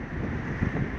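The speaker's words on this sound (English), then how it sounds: "So it's a bit windy on top of this peak" Wind buffets the microphone on an exposed hilltop peak in a local nature reserve, a steady low rumbling roar with gusty swells lasting the whole moment, no voices.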